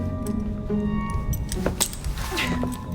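Keys jangle briefly as they are handed over in Assassin's Creed Syndicate, a few light metallic clinks rising over a low background hum.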